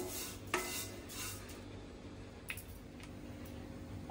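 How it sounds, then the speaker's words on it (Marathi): Roasted vermicelli (shevai) scraped and lifted out of a pan with a metal spoon, giving soft rubbing scrapes and a few light clinks of utensil on pan, quiet and close, no talking. "2 मिनिटं चांगले भाजून घेतलेली शेव मी काढून घेते"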